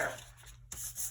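Paper rubbed firmly over a polymer clay pen cover, a short close scraping burnish with a brief pause before a second stroke.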